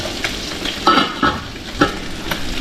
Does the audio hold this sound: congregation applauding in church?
no